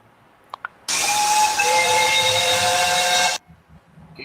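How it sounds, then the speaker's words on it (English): A three-chime steam whistle blows one sustained, loud blast of about two and a half seconds, with a bright, layered chord and breathy hiss, after two brief faint clicks. "Gators has a 3-chime steam whistle."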